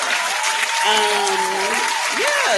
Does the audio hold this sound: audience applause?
yes